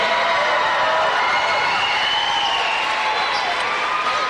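A packed high school basketball gym for a Gate City vs Glenvar state quarterfinal roars with a loud, continuous crowd din of cheering and clapping, with some voices mixed in.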